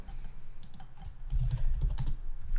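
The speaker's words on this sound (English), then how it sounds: "And you're gonna wanna type in cargo," A cargo command is typed on a computer keyboard into a terminal, a quick run of close key clicks that grows a little busier toward the end.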